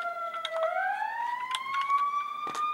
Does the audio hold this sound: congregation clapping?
no